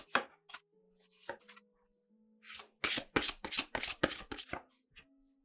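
Oracle cards being shuffled by hand, a run of quick crisp riffling bursts following softer scattered handling of the deck, close and clear with no talk.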